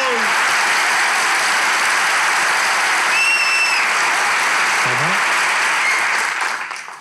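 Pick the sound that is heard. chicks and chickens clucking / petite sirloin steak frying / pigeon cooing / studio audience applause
studio audience applause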